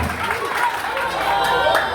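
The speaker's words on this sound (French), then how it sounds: "Applaudissez s'il vous plaît, applaudissez." Audience applause at a Haitian pageant final, the Miss Ouvrière Haïti 2024 grand finale, with a steady wash of clapping from a crowd and a voice over it.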